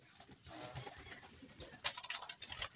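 Racing pigeons coo and flap their wings while being bathed, with soft close calls and bursts of splashing and wing flutter near the end.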